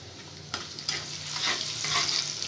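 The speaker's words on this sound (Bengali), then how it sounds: "এবার এগুলোকে বাদামি করে ভেজে নিচ্ছি।" Chopped onions frying in oil in a pan, about two tablespoons, sizzle steadily while a utensil stirs them with soft scraping strokes, heard close and alone.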